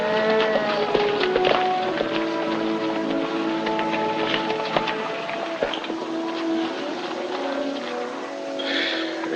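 A herd of cattle moos repeatedly, several overlapping low calls at varying distances over a continuous outdoor rumble in a western film scene.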